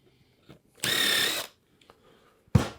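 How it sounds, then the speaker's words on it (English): A power drill spins briefly, about half a second, into a wooden jig to make a pre-drill mark, close and clear with faint clicks and handling around it. "give it a little pre-drill mark here"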